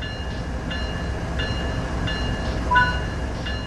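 A freight train rolls toward a coupling on Cajon Pass in Train Sim World 3, with a steady low rumble, faint rhythmic squeals repeating about every 0.7 seconds, and no talk.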